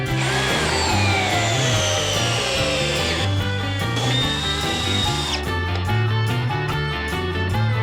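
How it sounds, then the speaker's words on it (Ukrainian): A DeWalt cordless drill in second gear drives an 8x300 mm lag screw into wood, a loud continuous motor whine with a shifting pitch and clicking strain near the end, no voices. "Саморіз 300 мм. Глухар 8 на 300. Друга передача."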